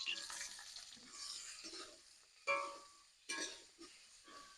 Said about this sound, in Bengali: কড়াই গরম হয়ে গেছে সর্ষের তেল দিয়ে দিলাম মাছগুলো দিয়ে দিলাম